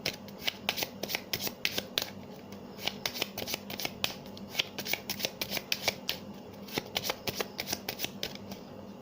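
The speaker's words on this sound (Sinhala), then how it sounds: "මම එකත් හොඳට ඔන්න ෂෆල් කර ගන්නවා" A deck of playing cards is shuffled repeatedly, giving a steady run of crisp riffling bursts and snaps close to the listener, with no voices.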